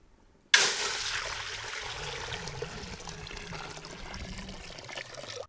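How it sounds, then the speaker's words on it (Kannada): Water pours into a cooking pot for a Mangalore-style mushroom ghee roast, starting abruptly after a brief silence and continuing as a steady, close rushing stream to the end. "ನೀರು"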